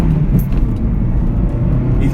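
Opel Astra GTC with a 1.6 engine of 115 hp pulls in sport mode, its low engine drone steady and close inside the car, with a voice speaking over it.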